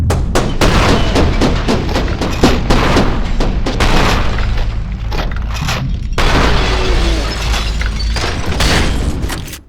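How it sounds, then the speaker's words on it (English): Shotgun fire in the video game F.E.A.R. 2: Project Origin, with a rapid series of heavy, booming blasts and thuds close up and loud, separated by short gaps. "Shot sound effects itself is understated, but as part of the whole audio-visual mix, it's menacing."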